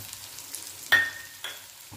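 Onion is dropped into hot oil already toasting cumin, mustard seeds and crushed garlic, then stirred: a soft background sizzle jumps to a sharp crackle with a clink of the spoon, followed by a second scrape.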